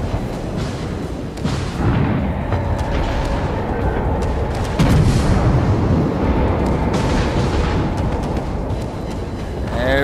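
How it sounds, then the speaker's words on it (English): Naval gunfire in World of Warships, a continuous dense roar of shell fire and booming blasts layered over engine rumble, loud and sustained throughout with no clear pauses. "Everybody's shooting at him."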